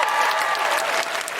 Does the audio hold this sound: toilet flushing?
no